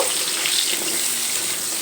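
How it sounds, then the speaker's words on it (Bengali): Pieces of papaya fry in hot oil in a wok, producing a constant close sizzling hiss at an even level with no speech over it. "ভাজার জন্য কড়াইতে পেঁপেগুলো দিয়ে দিলাম"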